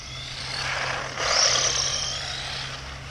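WLToys 12428 1/12 scale RC 4x4 crawler driving: a whining electric motor rising in pitch and loudness midway, then easing off, over a low steady hum.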